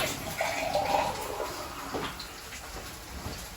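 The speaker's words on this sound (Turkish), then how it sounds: "Hemen sularımızı ekliyorum." Water poured into a cooking pot while a chicken and calamari dish is prepared, a steady close splashing and gurgling stream that tapers off toward the end, with no voices.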